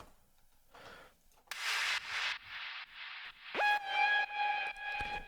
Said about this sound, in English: So that's basically just a really basic sort of saw lead